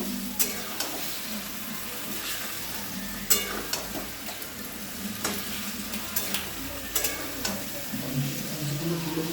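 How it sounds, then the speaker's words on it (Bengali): Chicken legs cooked down in a pan with ground garlic, onion paste and Kashmiri chili, giving a continuous close sizzle broken by repeated sharp taps and scrapes of a spatula stirring. "আর কাশ্মীরি লঙ্কা দিয়ে এবার মাংসটাকে ভালো করে কষিয়ে নেব"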